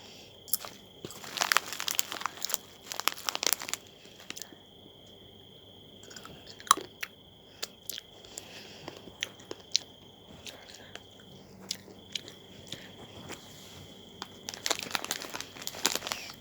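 Crunchy tom yum flavored nuts chewed close to the microphone, with bursts of sharp crunching and crinkling packaging and quieter stretches between, plus a little faint speech.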